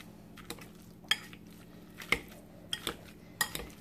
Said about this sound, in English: I'm going to take my Bruce's yams and I'm going to mash them up with my potato masher